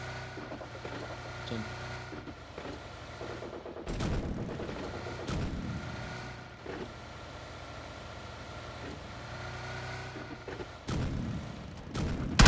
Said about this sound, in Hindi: तभी इतने में राइट से फायरिंग की आवाज़ आती है